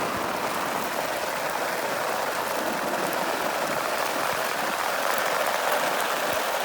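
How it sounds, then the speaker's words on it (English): Steady, dense rain pattering down on a garden in Eastern Ontario, Canada, a constant broadband hiss with no breaks and no talking. "The rain's coming down."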